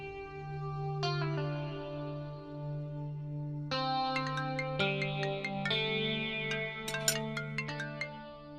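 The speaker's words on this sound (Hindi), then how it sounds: "गायत्री दीदी का फोन" A phone ringtone plays in a Hindi crime drama scene, a bright electronic melody with a sustained low drone, chiming notes climbing and layering with echo, fairly loud and without talking.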